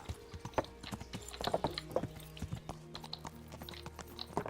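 Horse hooves clip-clop on the ground in the medieval game Kingdom Come: Deliverance, an uneven series of close, sharp knocks over a low steady hum.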